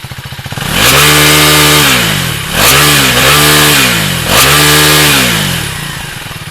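A Husqvarna Svartpilen 401 with an underbelly exhaust is revved hard to the red line three times, each long loud howl climbing and holding high before dropping back toward idle, close and without speech.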